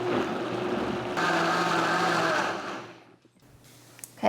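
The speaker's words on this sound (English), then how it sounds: "into the blender, and I'm gonna get it all blended up" Blender whirring through tomato salsa for taco sauce, a loud steady motor roar with choppy grinding that pitches up partway, then cuts off into quiet with a few small clicks.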